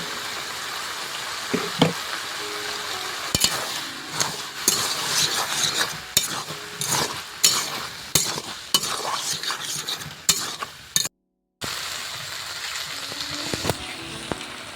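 Chicken ghugni cooking in a pan with salt, turmeric and sugar added: a spoon stirs and scrapes in repeated strokes over a steady sizzle of frying, close and fairly loud, with no talk.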